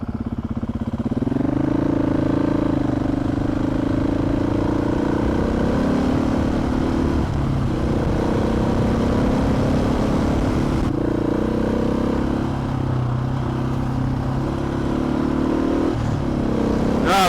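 Motorcycle riding through forest on a twin-track trail, the engine droning loud and steady the whole way with small pitch shifts as the throttle changes and a brief bump near the end.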